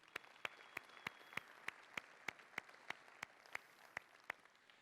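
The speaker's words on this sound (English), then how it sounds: "A round of applause for them, please" A single person clapping at a steady, even pace, about three claps a second, with sharp distinct claps over a faint background hush, at an event honouring a crew in Indianapolis.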